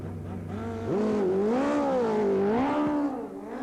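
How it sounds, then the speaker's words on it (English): Racing motorcycles, one a Kawasaki, launch hard off the start line at a 1990 streetbike drag meeting at Blyton, engine notes climbing sharply as tyres spin and smoke, loud and close with no talk. "And both bikes smoke the tyre, but Chris Easter is away and takes the win."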